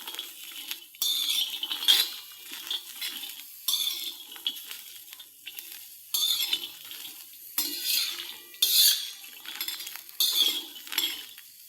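Fenugreek thecha being sautéed and stirred in a pan, with repeated light metallic scrapes and clinks of a spoon against the pan in irregular bursts, close and moderately quiet, with no talking.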